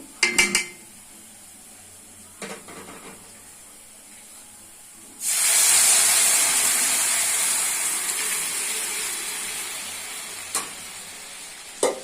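Red lentils go into hot oil with browned garlic and dried chillies and hit it with a sudden loud, hissing sizzle that fades slowly. Spoon knocks and clatter from the pan come before it and a few more during it.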